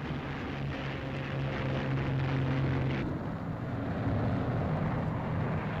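P-47 Thunderbolt and P-38 Lightning fighter squadrons taking off from a runway, a loud continuous roar of piston engines, with a droning engine tone that drops away partway through under steady wind-like rumble.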